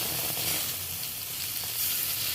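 Pointed gourd pieces fry in hot oil in a pan with ground mustard paste, giving a steady, close, hissing sizzle that continues without pause and without any talking.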